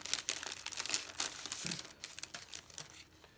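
Sheets of patterned craft paper crinkle and rustle as they are unpacked, a close, busy run of dry crackles with no talking.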